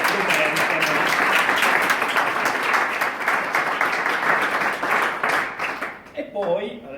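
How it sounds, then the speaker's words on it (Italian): Audience applause for a work team at an awards meeting of key users for an IT rollout, sustained dense clapping filling the room, with a few voices mixed in and tapering toward the end. "vorrei fare anche un applauso"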